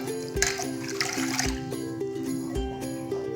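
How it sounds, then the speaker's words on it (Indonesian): Water poured from a glass into a cooking pot for a simple home remedy brew, a close splashing pour over a steady tonal background hum, with a few soft knocks. "kalian masukkan 1 gelas air saja, air putih"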